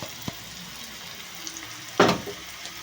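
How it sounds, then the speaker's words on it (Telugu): Masala paste with bitter gourd and salt in a pan, a faint low sizzle with a few small clicks and one louder stirring scrape near the end, heard up close without voices. "ఈ పేస్ట్ వేసేసుకున్నాం కదండి సార్ కలిపేసుకోవాలి"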